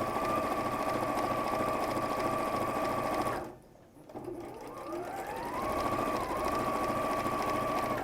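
A domestic sewing machine runs a steady, loud line of stitching down the middle of a dressmaking and appliqué piece, pausing briefly midway before the motor spins back up and continues evenly.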